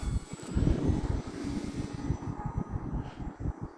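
Buzzing electric motor and propeller of an E-flite T-28 RC model airplane in flight, close and pulsing in level as it passes, louder at first and easing off.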